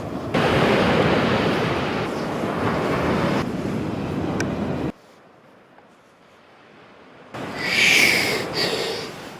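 Surf washing onto a Maharashtra nesting beach for Olive Ridley turtles: a loud, steady broadband rush of breaking waves that drops to a quiet lull midway, then swells back as another wave crashes in.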